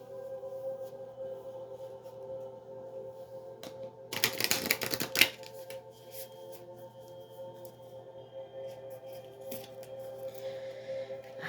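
Quick burst of riffling tarot card shuffles lasting about a second, set against a quiet room hum, with a few faint taps and rustles before and after.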